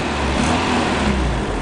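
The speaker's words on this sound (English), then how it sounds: "Okay, let's rev the engine." A Toyota car engine runs loudly and steadily, a brief sustained revving roar close by with no talk over it.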